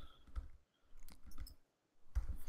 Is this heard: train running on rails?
no